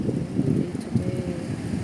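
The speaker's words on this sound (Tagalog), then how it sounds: "Windy day today." Steady wind roars and buffets the microphone outdoors at a bus stop in a low, continuous rush, with no voices.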